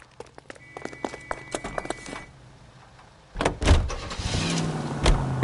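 A car in the video game L.A. Noire starts up and pulls away, with door and click sounds first, then an engine rising and holding a steady driving drone.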